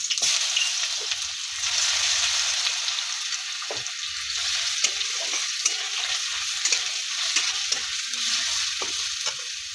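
Garlic paste frying in oil with a bay leaf, a continuous hissing sizzle with occasional stirring knocks, close and alone.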